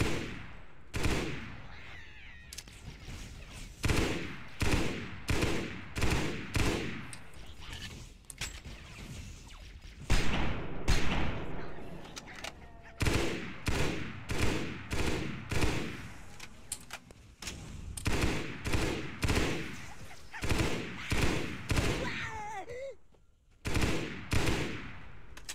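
Rapid gunfire from shooting grunts in the video game Halo SPV3, with loud sustained bursts in close succession and brief pauses between volleys.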